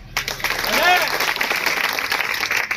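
Sustained crowd applause from an audience at a political address by a legislative candidate speaking to a tribal community in Danta taluka, a dense, steady clapping wash with voices mixed in throughout.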